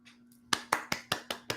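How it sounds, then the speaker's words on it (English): A single person claps alone, six sharp, evenly spaced claps close to the listener, following a brief moment of quiet. "No, I'm clapping."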